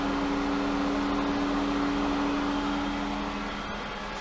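A Super Pump VS variable-speed pool pump on 2-inch pipe runs at speed 2, around 2500 RPM, giving a steady, even motor hum with a faint tonal whine that holds constant throughout, with no voices.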